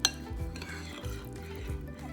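Chicken pieces being mixed with cornflour in a bowl, giving soft repeated stirring and scraping strokes with a few light clinks against the bowl, close up, with no voices.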